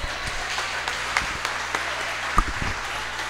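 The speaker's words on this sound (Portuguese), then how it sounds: "Aplauda o Senhor" Faint, scattered clapping rises from a church congregation during a Portuguese-language worship service, with soft background noise and no clear talking.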